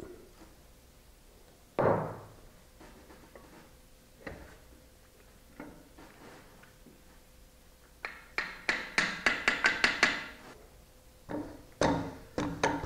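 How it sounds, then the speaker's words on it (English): Brass hammer tapping a bearing outer race into a hammer mill housing: a single sharp knock early, then a quick run of about eight close metallic taps, a pause and a few more, with quieter clinks between. "he'll be using the brass hammer to tap the outer race in place"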